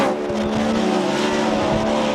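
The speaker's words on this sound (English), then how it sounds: "Listen to that exhaust note" A drift car's exhaust at a Formula Drift knockout qualifying round drones loud and steady, with tyre squeal mixed in as it keeps up a continuous roar.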